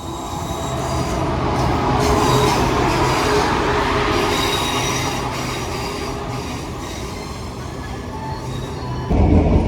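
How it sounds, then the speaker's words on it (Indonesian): A train rumbles steadily along the rails, heard from aboard, with dense rolling noise, faint squealing wheels and rhythmic clatter throughout, growing slightly louder near the end. "lagi naik kereta bang?"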